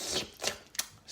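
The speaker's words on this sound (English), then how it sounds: "can make clicking noises with our mouth as we move it around" Sharp mouth clicks made with the tongue during a breath-focused dance workshop, three or four distinct bright pops spaced irregularly, close and fairly quiet with no talking.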